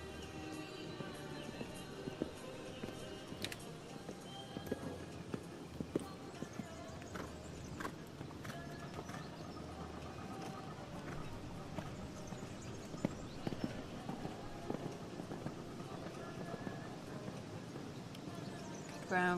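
Hooves of a horse in extended canter during an eventing dressage test thud rhythmically on the arena surface, faint and distant, with a commentator talking over them.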